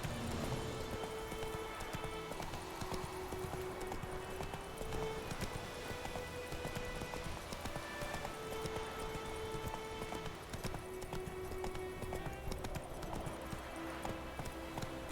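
Roach, the horse in The Witcher 3: Wild Hunt, gallops with steady, continuous clip-clop hoofbeats throughout, over a dense game soundtrack and ambient bed, with a brief whinny.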